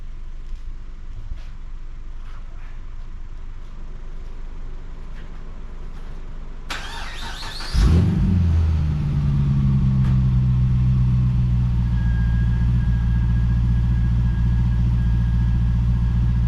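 Supercharged Pontiac GTO engine cranks and catches on its first start, a sudden loud burst followed by a deep, steady rumbling idle close by, after a stretch of quiet background noise.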